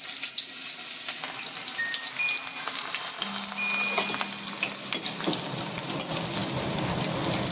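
Chopped onion fries in hot oil in a kadai for veg Hakka noodles, giving a dense, continuous sizzle with occasional stirring clinks and scrapes, close and fairly loud throughout.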